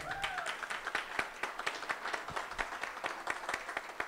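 Applause from an audience at a jazz concert and composition launch, honoring a teacher, faint and somewhat distant, with a steady patter of claps that rises and falls in soft pulses.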